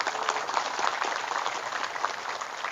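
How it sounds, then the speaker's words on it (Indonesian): Audience applause at a gathering in Indonesia: a steady wash of crowd clapping fills the whole stretch at moderate loudness, without talk. "Tepuk tangan dulu."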